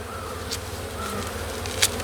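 Honeybees drone in a close, continuous buzz at an open hive during an inspection, with a few brief sharp clicks and knocks, and no voices.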